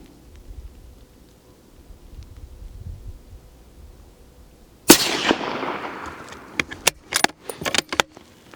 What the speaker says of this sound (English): So that was just 5 rounds because I don't have a ton of that ammo, so I'm just going to shoot 5 rounds